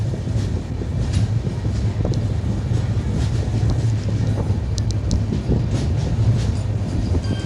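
A train passes near Kazipet Junction, a steady, loud rolling rumble that holds for several seconds with wind buffeting the microphone and no voices.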